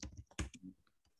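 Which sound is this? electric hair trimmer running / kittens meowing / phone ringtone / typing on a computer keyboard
typing on a computer keyboard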